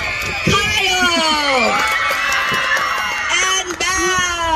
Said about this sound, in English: All right, audience, let's cheer for our classmates.